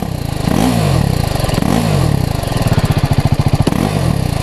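A BMW 310GS motorcycle engine runs close up, loud and alone, with a throbbing idle that rises in a few short blips and settles into a fast, even pulsing beat.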